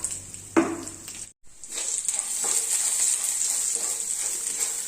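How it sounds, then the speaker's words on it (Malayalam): Grated coconut and spices roasting in a pan for tomato rasam, a steady sizzle with scraping stirs, a sharp clatter near the start, a short pause, then continuous frying. "ഇനി നമുക്കിതെല്ലാം കൂടെ ഒന്ന് നല്ലപോലെ ഒന്ന് വറുത്തെടുക്കാം"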